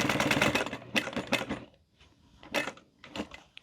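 A sewing machine stitches through layers of a fabric wristlet in rapid mechanical bursts, running steadily, pausing briefly, then starting again up close.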